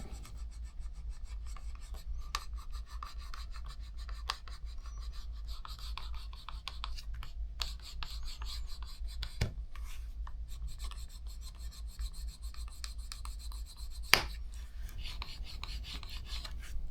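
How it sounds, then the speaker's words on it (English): Steady rasping rub of a tool burnishing natural veg tan leather for a pocket sheath, continuous close friction strokes with a sharper tap or click near the end, no talk. "The more that we burnish, the richer these colors of this natural veg tan are going to come out"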